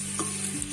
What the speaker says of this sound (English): So stir thoroughly to combine.